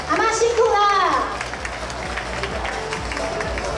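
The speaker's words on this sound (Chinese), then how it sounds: "我们掌声给阿嬷" Audience clapping for an 88-year-old volunteer crossing guard at an awards ceremony, a dense burst of applause that starts loud and carries on steadily, with a voice speaking over the start.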